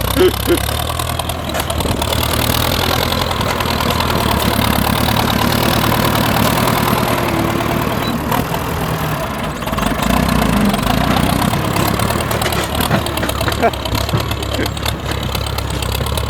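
An old grandfather-era Ford tractor idles in 41-degree heat, its engine a loud, steady, close mechanical drone with a constant low rumble and rattling throughout.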